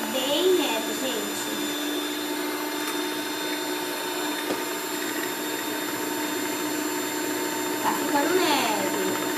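An electric mixer beats packaged cake batter with a steady, loud mechanical whir that runs throughout, while someone talks over it.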